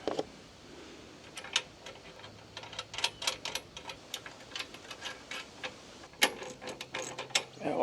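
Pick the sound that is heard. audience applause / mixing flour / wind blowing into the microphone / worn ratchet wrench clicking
worn ratchet wrench clicking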